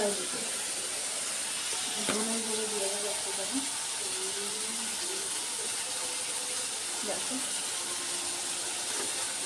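Turmeric, cumin and coriander frying in oil in a pan for a chicken liver and gizzard curry, giving a steady close hiss throughout with faint background voice traces.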